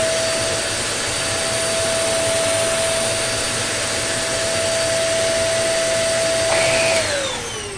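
An Oreck XL2800 or Shark NV22 vacuum cleaner runs over a thick doormat with the brush roll off, giving a loud, constant whining roar with a steady high tone that drops as the motor winds down at the end.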